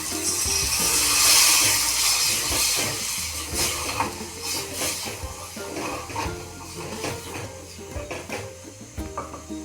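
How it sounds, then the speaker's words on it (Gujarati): Water poured into a hot pan of tempering chutney sets off a burst of loud hissing steam, then continuous sizzling and bubbling with scattered scrapes. "મિત્રો એની અંદર હું થોડું પાણી નાખીશ."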